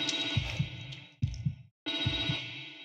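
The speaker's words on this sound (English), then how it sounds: "Is that phone?" An in-game telephone rings in The Evil Within 2 horror game: two short electronic ring bursts separated by a brief silence, close and clear, with no voices.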